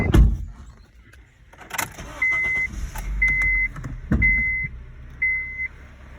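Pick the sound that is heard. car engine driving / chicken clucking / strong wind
car engine driving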